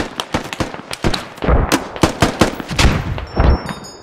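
Grenade launcher rounds in Squad burst in a rapid string of sharp, close explosions, a dozen or more cracks hitting in quick uneven succession with a few heavier, deeper blasts among them.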